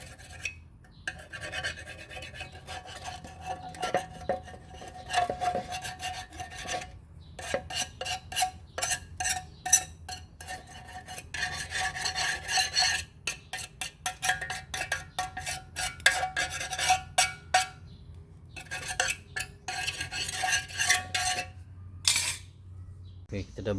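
Perodua Viva gearbox parts being scrubbed and washed, with long stretches of rapid rasping and rubbing strokes broken by short pauses and occasional light metallic clinks, steady and close.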